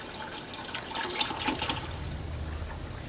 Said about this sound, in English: Just pour it in.